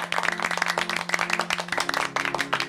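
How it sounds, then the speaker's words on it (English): A brief round of applause rattles out as quick, uneven claps from a few hands, fairly close, over a steady low electrical hum. "Round of applause there, too"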